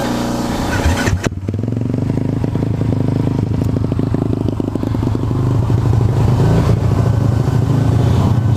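Motorcycle engine idling steadily while warming up before a ride, a close, continuous low rumble with a brief dip and clatter near the start, then a slightly louder, even throb.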